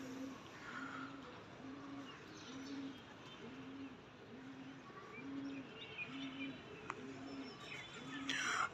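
Pigeons coo in a steady, repeating rhythm close by, the soft low calls rolling on for several seconds over faint background chirps.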